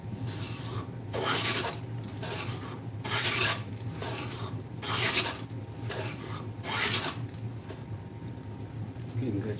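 A hand file rasping across scrap wood to raise shavings, in steady back-and-forth strokes about once per second, close and moderately loud against a low background hum.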